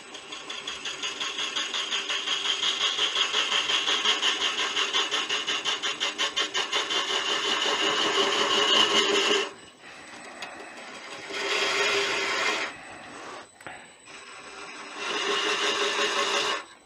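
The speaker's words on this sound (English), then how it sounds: "lower your lathe speed right down" Wood lathe turning at low speed while a tool takes a slow cut, a steady buzzing mechanical whir for about nine seconds, then two shorter bursts of cutting noise separated by quieter gaps.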